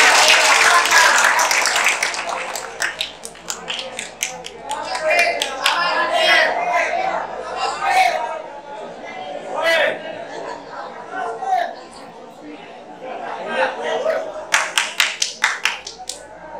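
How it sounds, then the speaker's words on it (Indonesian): An audience at a health talk in a prison gives a doctor a round of clapping, loose and uneven, with bursts of hand claps fading in and out between murmured chatter and talking. "Kita kasih tepuk tangan untuk dokter Medi dulu."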